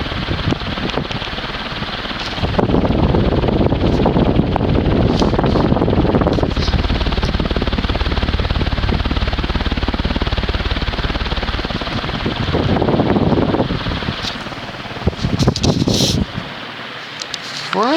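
A 36-inch View Fan industrial ceiling fan, model V36N-3M from about 1987, runs with a loud steady whooshing rush of air that swells and eases at moments, with some handling noise and quiet stretches around it.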